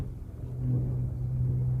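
A car engine with an electrical fault turns over and rumbles low and steady, its tone rising slightly partway through as if catching, close by and without voices.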